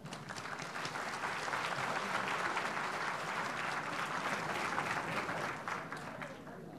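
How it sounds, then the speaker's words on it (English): Audience applause at a business conference as a company chairman is called to the stage, a continuous fairly soft clatter of many hands from a large hall, tapering slightly at the end. "Shall we give them a round of applause?"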